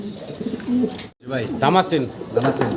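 Fancy pigeons at a pigeon sale, including checker and ice bar birds, coo in low rhythmic bursts close by, mixed with people talking throughout.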